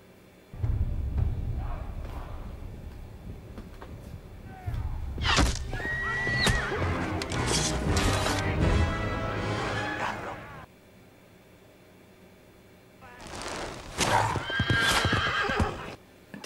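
Horses whinnying and neighing amid clip-clopping hooves in a fantasy battle scene from The Rings of Power, with loud bursts of calls in two clusters separated by a quieter stretch, mixed with other action sounds.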